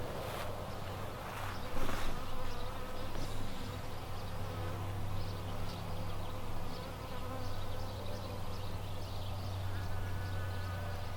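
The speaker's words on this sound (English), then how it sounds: "Okay, honeybee, one of you hold still." Honeybees buzz steadily around yellow gumweed flowers outdoors, a close, continuous droning hum with a few louder passes near the start.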